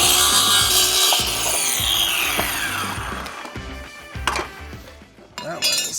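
Hand saw cutting across a wooden board at 90 degrees while building an outdoor bench, rhythmic rasping back-and-forth strokes, close and loud, slowing and stopping near the end with a few clinks.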